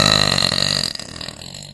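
A Twitch streamer lets out a loud, deep burp that rumbles for about a second, then trails off into quieter gurgling with no talking.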